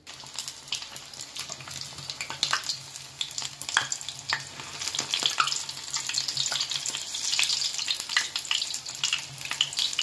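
Battered salt cod fritters (pavías de bacalao) fry in hot oil with a steady, dense crackle and sizzle. It runs close and continuous, with small bursts of popping and nobody talking.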